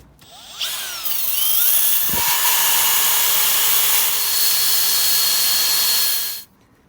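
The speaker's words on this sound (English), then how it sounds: "Let's get the wire wheel on that." Wire wheel on a power tool stripping paint from a Ford ST170 car part during restoration, the motor spinning up, then a long steady high whine and rasping scrub before it cuts off, loud and close with no talk.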